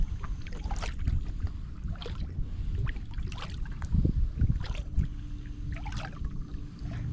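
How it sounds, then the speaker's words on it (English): Kayak paddle strokes dipping into a lake, soft splashes and drips repeating roughly every second over a low rumble of wind, with no talking. "I still love a paddling machine, an efficient kayak, and you get a nice paddle"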